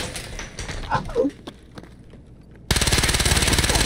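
Escape from Tarkov gunfire in the Factory map: muffled distant shots and thumps give way to a loud, close, rapid automatic burst that runs to the end.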